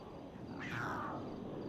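In the game GTA RP, a cat lets out a single drawn-out meow that sweeps down in pitch over a steady bed of background noise.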